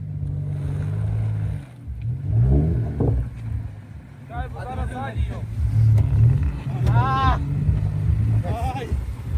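A BMW F30 sedan churns through a muddy bog test, its engine droning and revving loudly and steadily while people talk and shout nearby.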